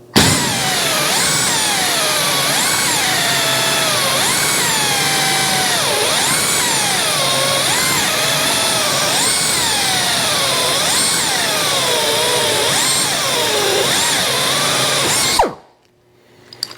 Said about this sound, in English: The problem being with pine, it likes to gum up hole saws